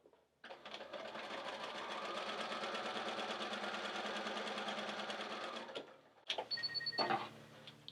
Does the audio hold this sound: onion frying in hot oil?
no